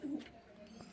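Two Kaldum Madrasi pigeons give a soft, brief coo, close but faint against a quiet background.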